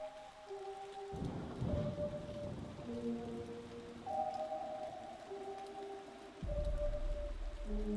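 Steady rain hisses in the video game Impostor Factory while low thunder rumbles roll in twice, with sustained synth tones layered over the storm like a game soundtrack.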